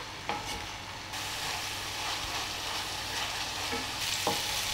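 Sliced leeks sizzle and fry steadily in a pan, a continuous close crackle with occasional stirring scrapes, no voices over it.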